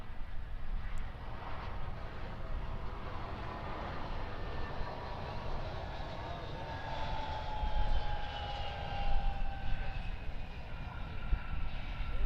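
A Qantas Link Airbus A320-200 airliner at Perth Airport gives a steady, moderately distant engine roar with a rising whine running through it, continuous for about twelve seconds with no voices.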